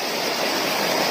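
Small natural waterfall at Pha Daeng in Thailand, a steady, close, full rush of falling water that holds even and unbroken throughout, with no voices over it.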